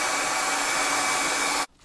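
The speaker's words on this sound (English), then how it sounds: "heat up the parts with a hair dryer" Hair dryer blowing steadily at close range to heat 1911 pistol parts before bluing, a loud continuous whooshing roar that stops abruptly at the end.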